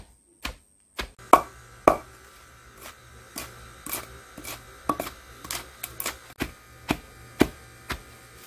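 Dried zanthoxylum (chopi) pepper is pounded in a stone mortar with sharp, dry thuds, about a dozen irregularly spaced strikes, close up over a faint background hum with no talk.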